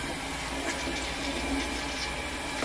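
A 1.6 gallon toilet flushing in a work building, a steady, close rush of water and gurgling that continues without a break.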